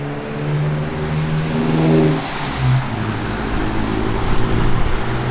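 A 1970 Chevrolet Nova SS hot rod revs its engine up close, with deep rising and falling throttle blips and a rumbling idle in between.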